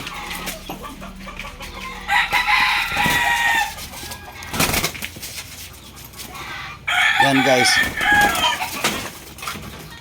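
Roosters crow loudly in two long bursts, with clucking hens and farmyard noise between, and someone briefly speaks.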